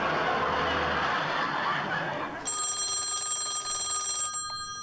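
An old-fashioned telephone bell rings loud and steady for about two seconds, cutting in after a stretch of broadband noise in a 1940s radio-show recreation.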